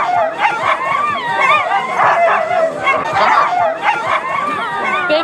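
Sled dogs yipping, whining and barking in an excited, continuous chorus at the start of a race, several teams nearby and loud, with faint voices in the crowd beneath.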